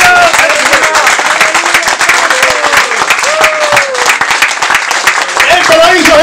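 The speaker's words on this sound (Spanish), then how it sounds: "¡Fuerte el aplauso!" Loud, dense applause from a church congregation in Cuba fills the whole stretch, steady clapping with cheering voices mixed in and a speaker talking over it.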